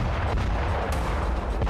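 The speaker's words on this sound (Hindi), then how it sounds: "एक विस्फोट होता है और अंदर से धुएं का गुबार उठने लगता है।" A drone-dropped grenade explodes inside a Russian T-series tank through an open hatch, a loud, dense, continuous blast rumble filling the whole moment with a sharp crack partway through.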